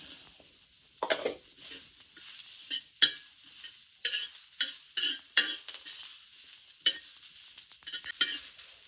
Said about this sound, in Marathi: त्याच्यानंतर आता कांदा परतून घेतोय.